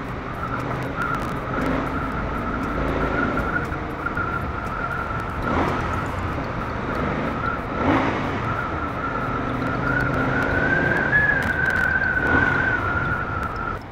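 Inside a Mercedes GLA 200 driving through a tunnel, a steady road and engine drone fills the cabin, with a sustained tone and a few whooshing swells as it moves along.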